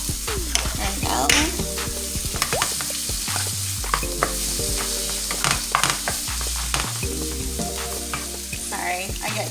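Food sautés in a pan seasoned with kosher salt, a steady sizzle broken by repeated utensil scrapes and stirring clatter, close and moderately quiet.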